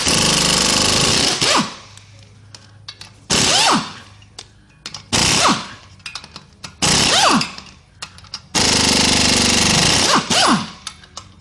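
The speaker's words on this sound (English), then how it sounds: "Take these bolts out." A power tool zips bolts out of a VW Mk2 transmission in four loud, close bursts of a second or two each, separated by near-silent pauses.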